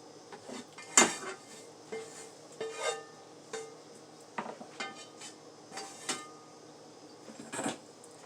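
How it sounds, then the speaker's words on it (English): A frying pan is washed out in a kitchen sink, with metal clanks and scraping of the pan and utensils, intermittent and fairly close, with irregular louder knocks. "So we're going to wash that pan out"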